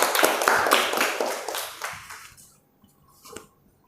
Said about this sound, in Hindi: मैं चाहूँगा इनकी जोरदार तालियों से स्वागत किया जाए